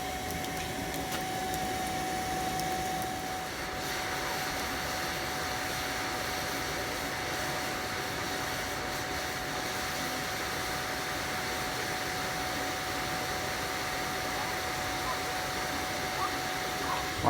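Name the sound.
blow dryer blowing air into a small DIY forge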